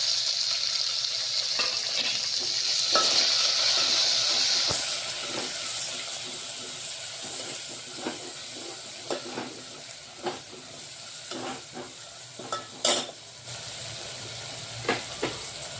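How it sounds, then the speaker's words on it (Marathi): Two chopped tomatoes fry in ginger garlic paste for a spinach and urad dal dish, a close hiss that is loud at first, then eases into softer sizzling broken by sharp spoon scrapes and clinks, with no talking. "आता आपलं अद्रक लसूणचा पेस्ट झालेला आहे इथे आता हे टमाटर घेतलेले आहेत कापून"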